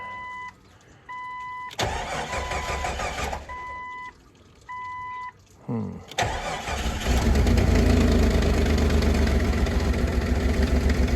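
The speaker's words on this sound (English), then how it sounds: "Got an exhaust leak." A car with an exhaust leak cranks in short bursts between chimes, then catches and fires up, settling into a loud, rough, raspy idle close by.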